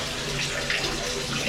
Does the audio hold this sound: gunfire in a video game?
no